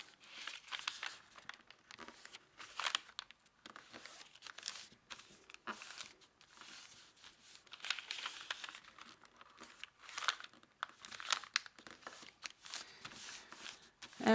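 A paper square being folded and creased into an origami heart: close crisp crinkles, rustles and sharp creasing swipes in irregular bursts, alone without talk.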